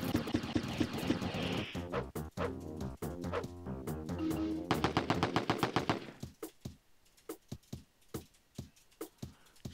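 Retro gunfire from the SNES game Wolfenstein 3D, dense rapid bursts over game music, then slower separate shots ringing out as ammo runs low, loud and close.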